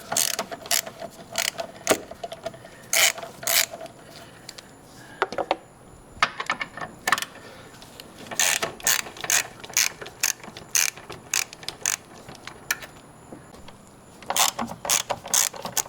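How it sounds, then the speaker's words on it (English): Ratcheting clicks from a tool being worked to loosen a screw during service on a 2017 Hyundai Elantra SE, quick bursts of sharp close clicks separated by short pauses. "use the Phillips head on this just to loosen that screw right there"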